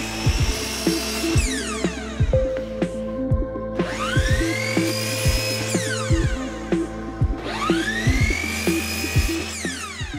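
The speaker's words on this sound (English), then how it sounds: "The hole that I'm drilling here is for the head of a screw that'll fit in there." A power drill bores a hole for a screw head into a wooden bar, loud and close, its motor whining up and down in repeated bursts with rhythmic clicking.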